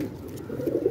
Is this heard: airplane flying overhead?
no